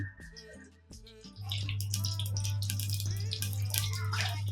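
Oil goes into a clay pot for a Telangana brinjal and fish curry, a close, steady liquid pour with a low resonant hum that settles into a continuous stream after some light clinks and splashes.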